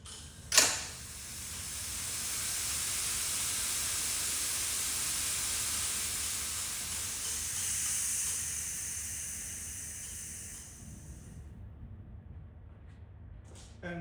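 Steady loud hiss of compressed air escaping from a leaking internal tube between manifolds in an older CF1220 machine, starting after a brief knock and running continuously for about eleven seconds before cutting off abruptly.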